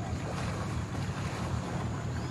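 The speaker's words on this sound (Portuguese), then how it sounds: "Vamos ver esse motor aí." A boat motor runs on water in a wild setting where a jaguar swims, a steady close engine rumble mixed with wind buffeting the microphone and water noise, no voices heard.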